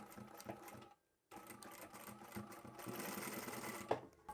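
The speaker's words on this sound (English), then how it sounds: "We're going to sew right along that stabilised edge." Sewing machine stitching along a stabilised fabric edge, a close steady whirring chatter of rapid needle strokes, briefly stopping for a moment before running on again, no talking.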